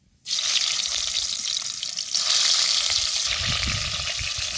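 Stuffed bitter gourd (karela) dropped into hot oil in a heated kadhai with cumin, in a village kitchen, bursting into a loud, steady sizzle that swells further after a couple of seconds.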